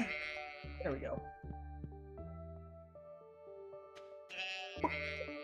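Sheep in the Stardew Valley farming game let out a few drawn-out wavering bleats, with someone speaking briefly at the start and end.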